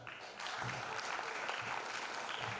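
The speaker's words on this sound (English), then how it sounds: "Yeah, give a big clap." An audience at an international science conference claps steadily throughout, a dense, even patter of many hands, fairly faint and heard from a distance.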